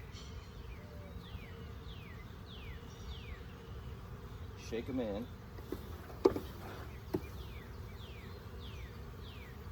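Honeybees hum during a hive inspection while frames are moved between nucs and deep boxes. The buzzing is soft and steady, with repeated chirpy bird calls, a few clunks and a brief spoken remark.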